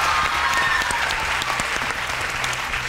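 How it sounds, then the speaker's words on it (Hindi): Continuous applause from a TV game show studio audience, steady and dense throughout, with no talk over it. "सो अपने लिए भी तालियाँ होनी चाहिए"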